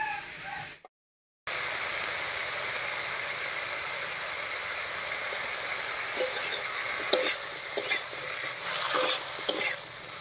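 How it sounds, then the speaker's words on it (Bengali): Bottle gourd greens and potato with salt and turmeric sizzle steadily in a pan, with a few scraping stir strokes near the end and a brief cut to silence early on. "লবণ হলুদ দিয়ে খুব ভালো করে মিশিয়ে নিলাম।"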